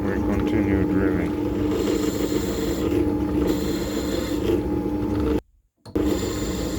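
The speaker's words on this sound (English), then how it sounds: "and we continue drilling." A drill press bores through knife handle material for a bushcraft knife, giving a steady grinding, rasping whir with a motor hum. It cuts out abruptly near the end before resuming.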